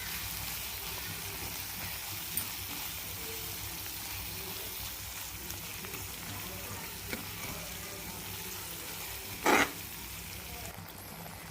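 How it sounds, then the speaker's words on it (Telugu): Tamarind leaves fry with chili powder in a pan for a dry fish curry, a faint, steady low sizzle with a few soft clinks and one brief louder scrape near the end. "కారం పచ్చివాసన పోయేంత వరకు వేయించుకోవాలి"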